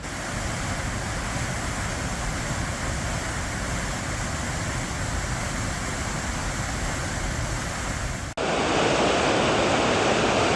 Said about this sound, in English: come down here to the sound of all this rushing water